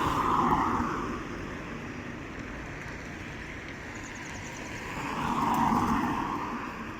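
A military vehicle is revved hard at an Army Reserve site, its engine roar swelling loudly at the start, easing to a steady drone, then surging again near the end; no voices.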